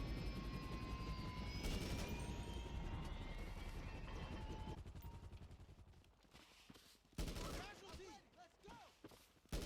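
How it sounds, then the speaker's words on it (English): A helicopter in the video game GTA Online drones with a steady rotor hum, mixed with bursts of gunfire and other game noise that thin out and grow more sporadic toward the end. "I do see another helicopter coming in"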